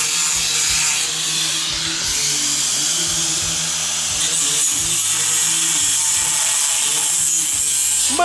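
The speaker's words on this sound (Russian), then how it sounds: "сейчас он осваивает резание болгаркой без кожуха" A harsh, high-pitched whine of an angle grinder without its guard cutting metal, continuous and loud, with a rhythmic lower engine-like pulsing underneath.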